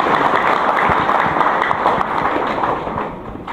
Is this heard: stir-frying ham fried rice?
no